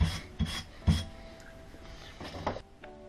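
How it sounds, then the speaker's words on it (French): Steel being rubbed clean with emery cloth or a wire brush, producing several close, rasping scrubbing strokes in uneven bursts that fade to lighter scratching. "Un petit coup de toile émerie, de brosse métallique, n'importe quoi, pour dire que ça soit propre"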